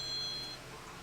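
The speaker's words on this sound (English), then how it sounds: "And there's the fucking phone again." A phone gives a single thin, high electronic beep lasting about half a second, faint against a quiet room.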